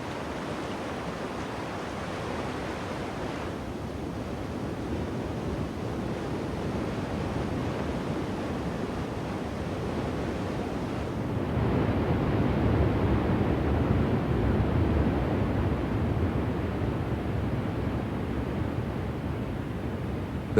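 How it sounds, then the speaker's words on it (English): Yosemite Falls, a free-leaping waterfall dropping 2,425 feet, roars as a dense, continuous wash of falling water that swells slightly louder partway through. "The grandest of the valley's leaping cascades is Yosemite Falls."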